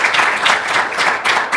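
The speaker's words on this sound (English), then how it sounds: "Let's give a nice applause." A brief burst of enthusiastic audience applause at a gathering, loud and close with many hands clapping together and slight swells in the clapping.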